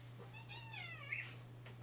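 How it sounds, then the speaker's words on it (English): A pet cat gives a single drawn-out meow, close and fairly clear, over a steady low electrical hum with no talking. "This is a cat."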